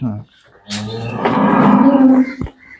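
A heifer moos loudly nearby on a dairy farm, one long drawn-out low call rising in strength, with a brief sharp knock near the end.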